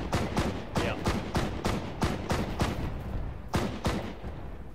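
Full-auto barrage fire in Arma 3, a sustained run of loud rhythmic gunshots in steady bursts, close and dominant with no talk over it.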